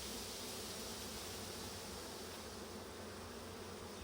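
Honeybees buzzing close around a beekeeper's head during a hive inspection, a steady, continuous drone with no talk over it.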